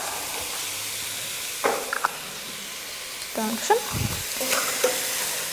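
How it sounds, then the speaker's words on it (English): Leek and lemon cooking in a pan give a soft, steady sizzle with occasional scraping stirs, and faint low voice-like sounds turn up midway. "we're just going to keep that stirring for a few minutes till the leek and the lemon start to sort of wilt"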